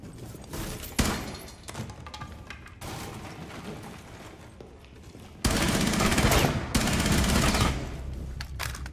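Gunfire in Rainbow Six Siege, loud bursts of rapid automatic fire in several separate volleys, the last one heavy and sustained, with no talk over it.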